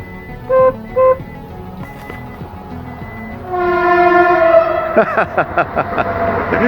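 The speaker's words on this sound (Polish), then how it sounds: "A tu jeździ jakiś pociąg." A train horn sounds two short toots, then a long, loud blast as the train rumbles past with rhythmic clacking of wheels.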